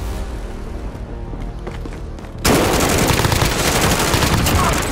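Loud, dense automatic gunfire erupts midway through a Call of Duty Warzone match, rapid overlapping bursts continuing steadily after a quieter stretch with scattered sounds.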